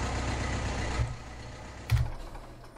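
A vehicle engine in Farming Simulator 17 rumbles at idle with a rough exhaust note, loud at first, then quieter with two sharp low thumps.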